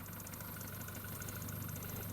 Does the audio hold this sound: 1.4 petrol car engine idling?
yes